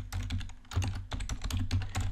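Rapid, steady clicking of a computer keyboard as code is typed into Google Earth Engine, keystrokes close and crisp with brief irregular pauses.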